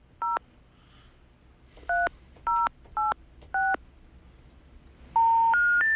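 Telephone keypad tones beep in a quick series of short dual-tone presses, five spaced beeps followed by a final louder longer tone, clear and close with no speech.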